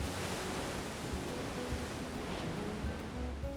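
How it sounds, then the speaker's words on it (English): Ocean waves crash against the shore along Madeira's western coast, heard as a steady, faint broadband roar of surf with no distinct breaks and no voices. "they were definitely loud enough, crashing against the shore."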